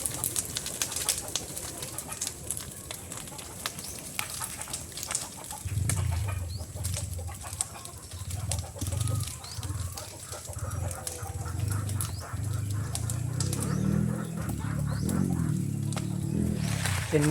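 Chickens in a smoky coop give soft clucks and low murmurs against a steady background hiss, growing slightly busier toward the end.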